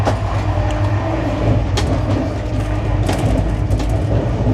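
Rajdhani Express from New Delhi to Sealdah, heard from on board as it slows near Aligarh Junction, with a steady loud rumble and rail noise and sharp clicks over the rail joints.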